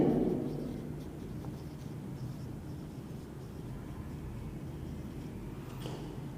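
Pen writing on a balance sheet during an accounting lesson, a steady soft scratching hiss that runs continuously for several seconds, fairly quiet and close, with no talk over it.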